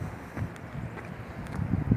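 Cold wind blowing outdoors at a hillside grotto shrine on a sunny day, a steady low rumble of gusts buffeting the microphone, swelling louder toward the end, with no talking.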